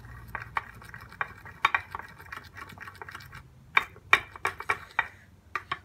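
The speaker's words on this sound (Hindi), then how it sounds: "इन सब चीज़ों को मिक्स करेंगे।" Spoon clinking and scraping in a small bowl while lemon juice, honey and other face pack ingredients are stirred together, giving irregular light taps and clicks, close and fairly quiet, with no talking.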